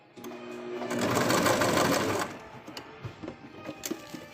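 A sewing machine stitches a plush toy in a loud, fast, continuous whirring burst for about two seconds. Light clicks and handling noises follow as the fabric is adjusted.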